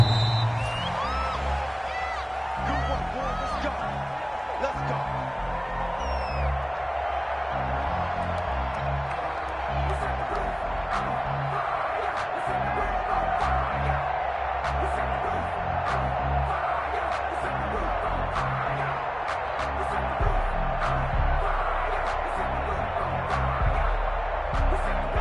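Stadium crowd noise from an American football video game on PS4, Arizona Cardinals versus Kansas City Chiefs, a steady loud roar with scattered whoops over a low musical bed, sustained throughout with no clear talk.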